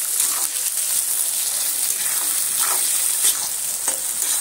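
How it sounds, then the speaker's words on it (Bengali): Chopped onions fry in hot oil in a pan, a continuous bright sizzle with occasional crackles and stirring scrapes, close and steady, with no voices. "পেঁয়াজটা আমি তেলের মধ্যে দিয়ে দিচ্ছি। দিয়ে আমি পেঁয়াজটা একটু সুন্দর করে লাল লাল করে ভেজে নেব।"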